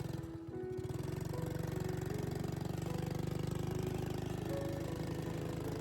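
A motorbike engine runs steadily after a brief stutter at the start, a close, even mechanical drone with a regular pulsing rhythm, no voices.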